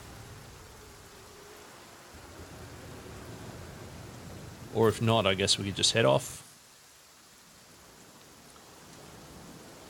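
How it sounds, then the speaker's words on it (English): Steady rainfall in The Flame in the Flood video game, a soft, even hiss running throughout, with someone briefly talking over it midway before the rain continues alone. "Hopefully the rain will stop."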